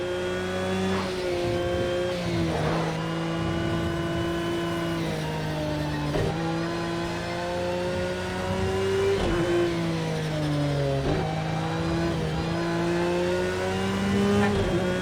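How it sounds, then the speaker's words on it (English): A race car engine in a racing video game at Knockhill revs steadily and loudly, its pitch climbing and dropping with repeated throttle blips through gear changes, with no voices over it. "I gotta blip the throttle better"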